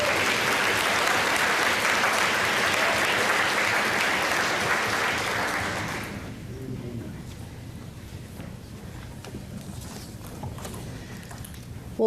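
Warm round of applause at a college convocation rolls strongly for about six seconds, then drops away to a quieter hall with scattered lingering claps and faint room noise.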